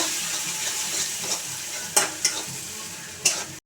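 Salt, turmeric, chilli and cumin powder are stirred into hot oil for a small fish chorchori, a bright steady sizzle with a few crisp scrapes of the spatula close up.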